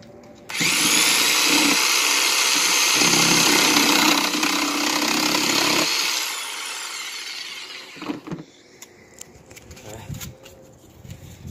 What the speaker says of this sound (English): So you have a jigsaw.